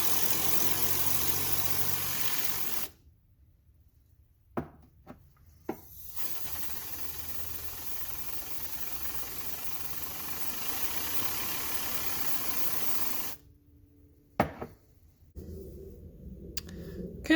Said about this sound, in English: I'm going to hit it with a little dust off, get this thing spinning a little bit